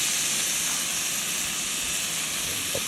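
Beef chunks sear in a pan over a camp fire for Guinness beef stew, giving a continuous, even hiss of sizzling fat that stays steady and close throughout.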